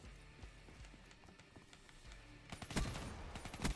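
Gunfire in Black Ops 3 multiplayer, with scattered distant shots and footsteps giving way to louder rapid automatic bursts near the end, faint and mixed with game noise.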